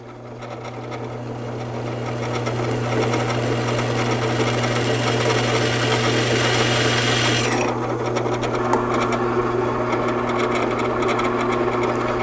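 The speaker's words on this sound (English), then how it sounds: "I've got the drill set, I think, at its lowest speed." A power drill boring into metal whirs steadily and loudly close by, grinding at its lowest speed, its pitch shifting slightly partway through.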